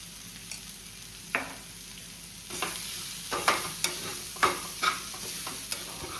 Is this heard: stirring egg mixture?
yes